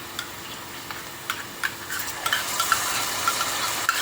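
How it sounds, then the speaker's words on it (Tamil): Onions sauté in a pan as ginger-garlic paste goes in, with soft sizzling and a few light stirring clicks that grow slightly busier toward the end. "இப்போ பாருங்கள், வெங்காயம் நல்லா கொஞ்சம் வதங்கிட்டு பச்சை வாசம் போக இப்போ நம்ம இஞ்சி பூண்டை போட்டுக்கலாம்."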